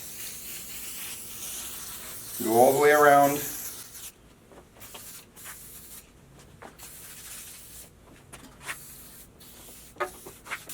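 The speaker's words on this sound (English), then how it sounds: "So what I do is I just spray this stuff down on it" A short hissing burst of aerosol spray onto steel close by, followed by quiet clicks and rubbing; someone speaks briefly.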